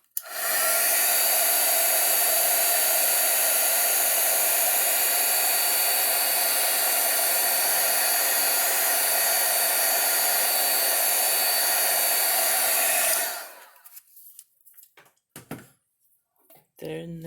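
A hot-air heat tool blows steadily on watercolor tissue paper, a loud, close, continuous whoosh lasting about thirteen seconds before it shuts off, followed by faint handling clatter.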